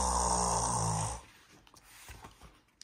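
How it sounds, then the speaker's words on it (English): A cartoon pig father snores in one long, loud, rumbling breath that fades out into quiet near the start of the clip. "He's snoring."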